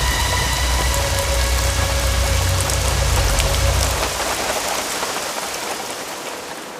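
Steady, loud rain pours down and patters on surfaces, a dense unbroken hiss with a low engine-like rumble beneath that fades out partway through.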